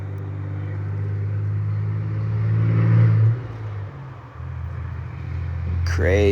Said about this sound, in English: Crazy truck.